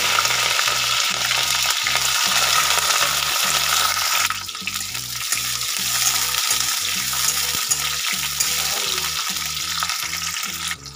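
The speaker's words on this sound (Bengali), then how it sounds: "এটা আমি চৌকো চৌকো করে কেটে নিয়েছি ক্যাপসিকাম, সেটাকে আমি ভেজে নেব।" Square-cut capsicum pieces sizzle and crackle in hot mustard oil in a pan, a loud, close, steady fry broken by regular stirring scrapes, the sizzle dropping a little partway through; no one speaks.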